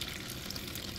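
Water running steadily as organic tomatoes are washed in a kitchen, a brief, faint, even hiss of flowing liquid.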